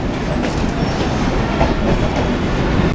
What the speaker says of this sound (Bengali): ট্রেন এখন ছেড়ে বেরোচ্ছে বিবিধিবাগ স্টেশন থেকে